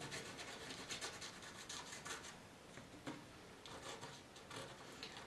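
Fingers push damp granulate across a surface to wear down rust, producing a continuous gritty rubbing scrape with repeated strokes, close up and faint, with no talking.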